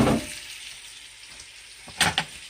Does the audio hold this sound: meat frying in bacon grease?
yes